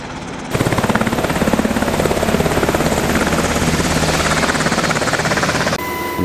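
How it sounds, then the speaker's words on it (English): A Rhode Island National Guard Black Hawk helicopter in flight, heard close from aboard during a flood damage tour, with loud, continuous rotor chop and engine roar that holds steady throughout. "aboard a Rhode Island National Guard Black Hawk helicopter"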